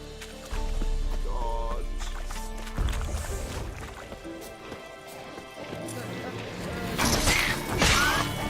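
Horse hooves in The Witcher 3 video game, a galloping clatter mixed with game music and mechanical effects, moderately loud and continuous with a busier burst near the end.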